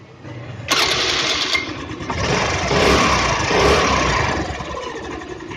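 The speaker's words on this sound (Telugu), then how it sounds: "బండి స్టార్ట్ చేసి ఇంజిన్ బీటింగ్ అనేది ఎలా ఉంటుందో చూద్దాం" A Scooty Pep+ scooter, just fitted with a new bore kit and cylinder, starts with an abrupt kick of the engine and then settles into a close, loud idle that rises and falls slightly.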